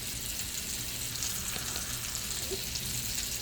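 Steak slow-cooking in a cast iron pan over low heat gives off a steady, close sizzle and crackle that runs without a break the whole time, with no talking.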